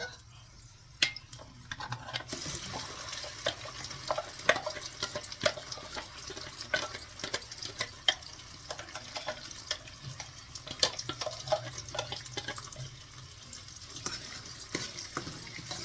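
Soft, continuous frying hiss from a pan with scattered clicks and scrapes of stirring, fairly quiet throughout.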